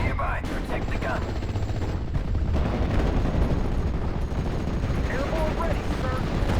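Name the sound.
gunfire in the video game Steel Division: Normandy 44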